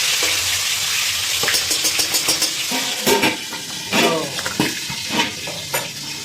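Hot oil spatters and sizzles around pangas fish frying in a pan, with steady crackling broken by sharp pops and a few bursts of louder spitting, close and alone without talk.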